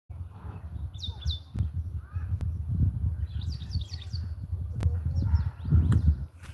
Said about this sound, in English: Plenty of birds here.